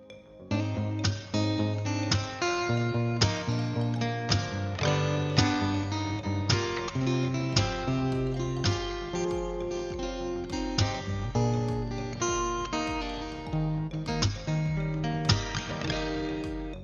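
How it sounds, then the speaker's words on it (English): A guitar plays a lively, rhythmic melody with plucked notes and strummed accents, steady and close, with no voices. "that was the sound of a guitar"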